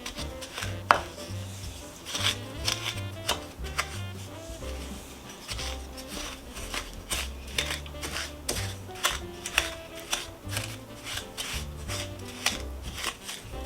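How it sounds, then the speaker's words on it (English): Butter and sugar are creamed by hand with a wooden spoon, giving a steady rhythm of scraping, thudding strokes against a bowl, close and moderately loud, with faint background music. "I'm going to cream it all by hand."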